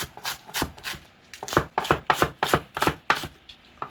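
A knife slices green onion (daepa) diagonally on a board for young radish kimchi, about a dozen crisp, close cuts in a quick, fairly even rhythm, with no talk.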